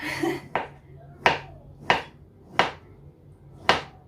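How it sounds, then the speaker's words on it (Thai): A knife chops bamboo shoots on a board in five separate crisp strikes at a slow, steady pace, close by, with a brief voice at the start. "เดี๋ยวหั่นหน่อไม้อีกนิดหน่อยนะคะ"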